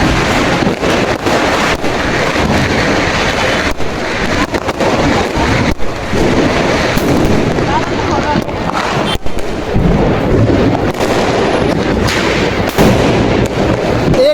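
Diwali bombs and firecrackers crackle and pop continuously, with dense overlapping bursts over heavy wind noise across the whole stretch, loud and close.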